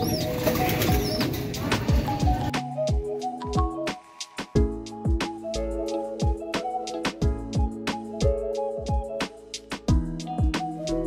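Racing pigeons coo in a loft, with soft repeated coos, clicks and a few wing flutters heard close by.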